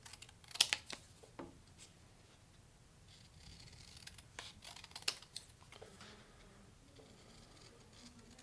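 Scissors snipping out paper characters for a homemade St. Patrick's Day board game, a few sharp close clicks early on and then scattered quieter cuts and paper rustles.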